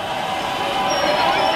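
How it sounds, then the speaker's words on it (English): The first Green Line Extension light rail train pulls into a Medford station on opening day, a loud steady rumble and rising whine with a faint high tone building near the end, with a crowd around. "First train's pulling in."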